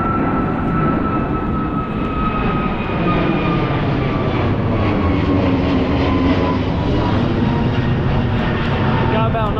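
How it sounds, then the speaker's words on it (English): Airplanes take off at an airport, a loud sustained engine roar with a rising whine that fills the whole stretch, steady and close. "Got more planes taking off"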